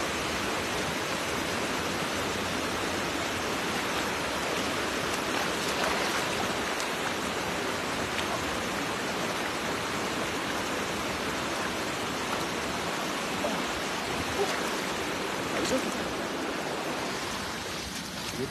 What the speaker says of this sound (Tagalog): Dito lang sila sa maagos na tubig